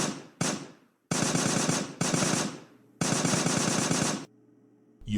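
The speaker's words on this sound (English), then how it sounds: "there are 2 machine guns hidden off to the right, so I can finally kill these enemies" Machine gun fire in a video game, heard as loud sustained bursts of rapid automatic shots broken by short pauses, close and dominant with no talk.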